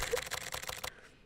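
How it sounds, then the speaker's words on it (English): Rapid keyboard typing effect from the Collar X Malice visual novel, a quick burst of about eight clacky keystrokes in steady rhythm that stops abruptly, followed by quiet. "Yo, that's a lot of typing."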